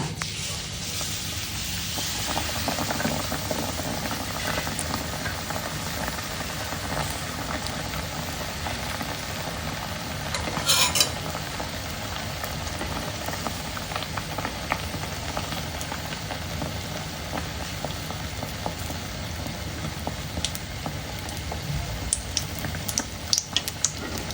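Carrot-stuffed bread pieces frying in hot oil give a steady, close sizzle that holds for the whole stretch, with a brief louder crackle partway through and no talking.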